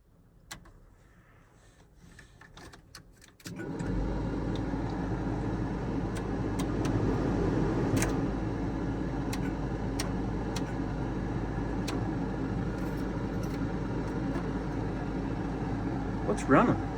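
A blower fan on a farm vehicle runs steadily after the key is switched on, a constant whirring drone that starts a few seconds in and holds at even level, with occasional clicks and brief speech over it.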